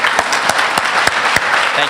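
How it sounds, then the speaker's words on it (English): At a high school all-stars awards gala, the audience applauds honored kids with continuous, close clapping and a few sharper individual claps popping out of the crowd. "round of applause for all the kids that are in the room being honored tonight"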